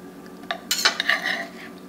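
A spoon scraping and clinking against a pan while scooping caramelized pork belly, a few brief metallic taps and scrapes close by, fairly quiet.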